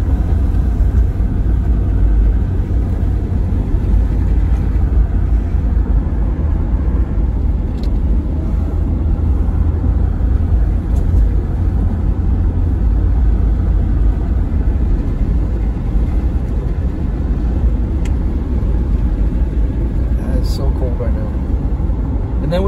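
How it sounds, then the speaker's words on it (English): Strong wind gusting across the Big Bear mountains at 28 degrees, a steady, loud low roar buffeting the microphone for the whole stretch with no letup. "with this wind blowing like it is"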